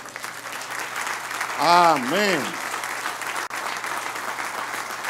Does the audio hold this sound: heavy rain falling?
no